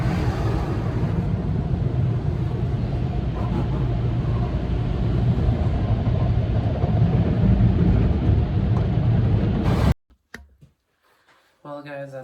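A new car getting its first wash with soap and water: steady, loud broadband rush of spraying water for about ten seconds, then it cuts off, leaving near silence with a brief voice at the end.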